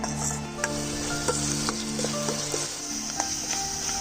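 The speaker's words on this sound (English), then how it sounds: "the ginger garlic paste has been frying for about a minute" Steady oily sizzling of ginger garlic paste frying in a pan, with occasional soft stirring scrapes and small pops, close and continuous.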